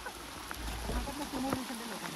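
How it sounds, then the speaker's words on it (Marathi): A heavy downpour of rain hisses steadily during an outing to a valley, with a voice talking over the broadband rush. "आता तुम्ही बघूच शकता कसला जोरात पाऊस सुरू झालाय"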